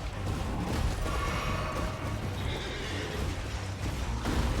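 Horse neighing and whinnying in the video game Elden Ring, a steady neigh over a busy game soundscape with hoofbeat-like clip-clop, lasting throughout.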